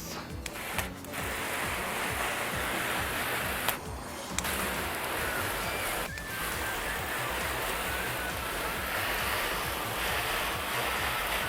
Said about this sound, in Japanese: 水をかけてみようと思います。